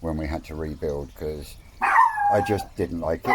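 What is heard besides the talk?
dog barking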